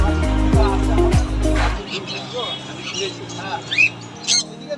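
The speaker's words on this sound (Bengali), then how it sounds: "এখানে পাইনাপেল কনুর রয়েছে পাইনাপেল কনুর আছে" Parrots, including pineapple conures, at a busy pet bird market, with harsh squawks and chirps near and far mixed into crowd noise while someone talks over them.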